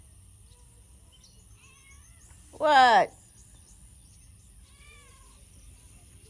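A farm cat on a homestead lets out one loud, drawn-out meow up close, with a couple of faint meows before and after, over quiet outdoor ambience, and a person speaks briefly.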